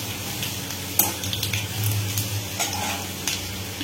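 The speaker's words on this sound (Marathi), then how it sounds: "जे बारीक लसूण आपण कट करून घेतलं होतं ते घालणार आहे। लसूण थोडासा फ्राय झाला" Finely chopped garlic sizzling in hot oil in a pan, a constant crackle punctuated by a few sharp utensil knocks and stirring scrapes.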